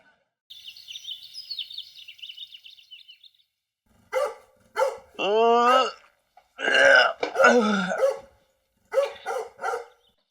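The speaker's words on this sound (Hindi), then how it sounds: "सारी एनर्जी आज ही भौंकने में लगा देगा, थोड़ी कल के लिए भी बचा के रखे" A dog barks repeatedly up close, sharp yaps mixed with a drawn-out whining howl, after a few seconds of faint high chirping.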